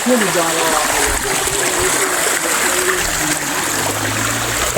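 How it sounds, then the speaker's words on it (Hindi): A waterfall at a 350-year-old temple, a steady loud rush of falling, splashing water filling the scene from start to finish while someone talks over it. "ये झरना है क्या?"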